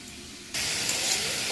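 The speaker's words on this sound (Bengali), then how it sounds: "এবার কপিটা ভাজবো।" Cauliflower hits hot oil in a home-kitchen frying pan, a sudden loud sizzle bursting in after a quiet half second and holding as a bright, steady hiss.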